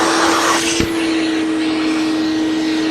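A powerful shop vacuum runs steadily in a workshop, a loud sustained motor whine with a constant drone throughout and a brief clunk early on.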